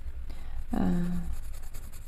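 Coloured pencils scratch and rub across a magazine colouring page, giving a brief soft scribbling stroke close by in a quiet room.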